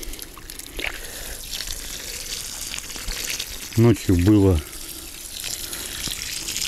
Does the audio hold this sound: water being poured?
yes